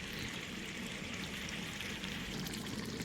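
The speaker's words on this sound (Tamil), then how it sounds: "இப்போ இந்த ஸ்டேஜில் நம்ம புளி தண்ணி ஊற்ற போகிறோம்." Tamarind water pours into an eggplant curry (ennai kathrikkai) in a cooking pan, making a steady, continuous hissing wash that stays close and even throughout.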